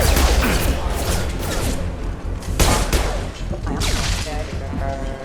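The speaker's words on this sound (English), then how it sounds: "Taking heavy fire!" Heavy gunfire in Mass Effect Legendary Edition, a dense run of shots and impacts crashing together over about five seconds, with a few sharp thwacks standing out and a voice speaking briefly amid the din.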